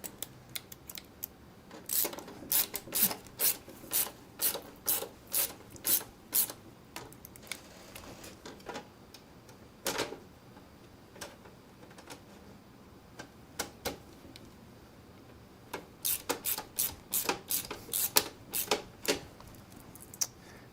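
Fan screws are driven into a computer case, making rapid bursts of sharp clicks and ticks from close by, separated by quieter pauses.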